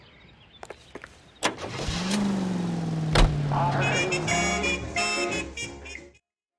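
A car in the L.A. Noire video game starting and pulling away, its engine rising then settling into a steady hum, with a door thump and voices talking over it.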